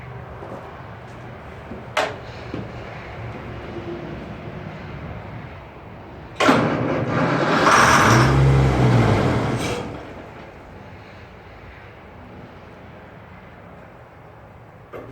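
An engine cranks and catches on starter fluid, roaring loudly for about three seconds before dying back down, with a sharp click or two beforehand and a low hum throughout.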